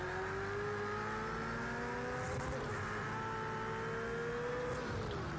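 A Ferrari 458 engine revs and accelerates, its tone rising steadily and holding a strained, continuous note, heard fairly faintly from inside or near the car with no talk over it.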